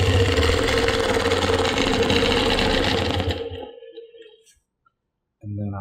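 A sewing machine runs fast and steady while stitching a Baptist Fans quilt, a continuous whirring chatter that stops abruptly, leaving near silence before a voice begins.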